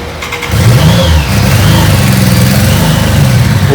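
A fuel-injected BMW K75 motorcycle engine runs loud and close, idling unevenly with a rough, sputtering rumble, sounding like only two cylinders firing.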